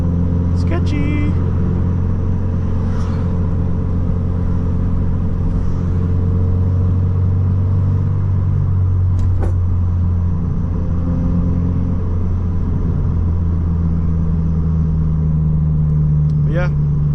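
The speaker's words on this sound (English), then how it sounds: "just doing a little calm POV, little nighttime drive to the gym" A Subaru BRZ cruises at night with a low, steady engine hum and road rumble throughout, while someone talks over it.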